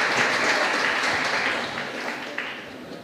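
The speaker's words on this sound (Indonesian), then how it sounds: "kasih tepuk tangan dulu" Audience applause at an Islamic lecture, a steady wash of clapping from the crowd that holds for a few seconds and slowly fades, with no voices over it.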